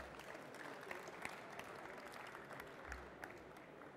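Scattered clapping from an audience at an environmental business awards ceremony, fairly faint and distant, with a few sharper claps rising above a low room murmur.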